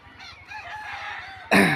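A local free-range rooster crows in a long, harmonic call that builds and then breaks into a louder, brighter burst near the end, close and clear with no talk.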